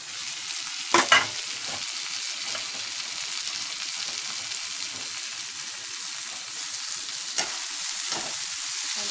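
Tomatoes and green chilies sizzle in a hot pan, a steady bright frying hiss with a couple of scraping stirs from a spoon, close up and constant.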